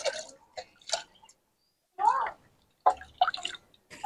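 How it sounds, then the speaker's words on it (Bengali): Lentils for sambar are rinsed in a bowl of water, with splashy swishing and gurgling bursts separated by short quiet gaps, close and fairly clear. "এই ডালটা আমি ধুয়ে নেবো ভালো করে"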